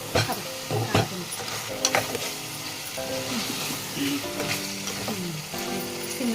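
Chicken curry sizzles and fries in a pan while a spoon stirs and scrapes it, with steady sizzle broken by clinks and scrapes close by.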